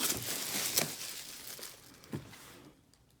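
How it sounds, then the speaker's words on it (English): Plastic wrap crinkles and tears off a boxed iCue H150i Elite Capellix cooler, a few soft rustling pulls and crackles close by, fading to quiet at the end. "I'm gonna take off all the plastic and then go around the box"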